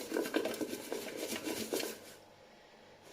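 Pan of broccoli and tenderstem vegetables tossed with oil, salt and pepper, shaken in a quick run of rattling metallic clatters for about two seconds, then falling quiet, close up with no talk.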